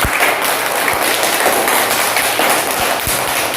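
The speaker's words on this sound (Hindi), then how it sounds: "चलिए एक बार जोरदार तालियां बजा दीजिए।" Schoolchildren clapping together in a classroom, a loud, busy patter of many hands with a few sharper thumps scattered through it.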